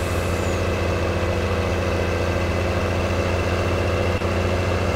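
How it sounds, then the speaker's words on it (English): A truck engine idles in Farming Simulator 19, a loud, steady mid-to-low drone with a constant hum that holds unchanged throughout, alone without talk. "That truck was a little loud."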